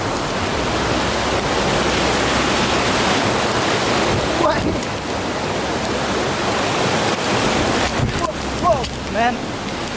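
A mountain stream rushes loudly and steadily in a constant broadband roar, with faint brief sounds poking through near the end.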